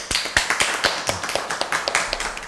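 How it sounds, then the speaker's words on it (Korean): A handful of people clapping at a county council event, sparse and uneven, with sharp individual claps rather than a full roar of applause. "네, 박수."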